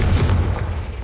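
A Confringo blasting spell goes off in the Hogwarts Legacy video game, a single deep booming explosion with a heavy low rumble that decays over about a second, heard alone without talk.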